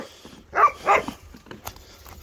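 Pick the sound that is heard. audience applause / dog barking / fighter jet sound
dog barking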